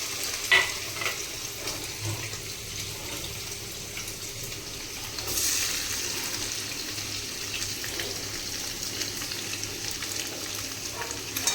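Steady oil sizzle of paneer pieces frying, with light scraping and stirring knocks, constant and fairly close throughout, no voices.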